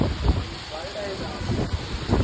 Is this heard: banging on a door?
no